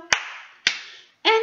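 Hands clap twice in sharp, ringing claps during a Bingo sing-along for infants through kindergarten, followed by the start of a sung voice.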